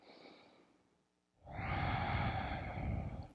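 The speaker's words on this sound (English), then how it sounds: "Let's take a breath here." Slow, deep breathing during a chair yoga session: a soft inhale, a short pause, then a long, loud, close exhale like a sigh.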